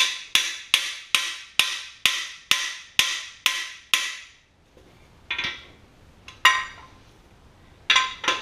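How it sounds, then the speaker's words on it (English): A cam bearing being driven into a 1966 Ford Galaxie 500 engine block: nine sharp, evenly spaced metallic taps, then a pause and a few scattered, louder single strikes, close and clear with no talking. "I'll tap it in a little more"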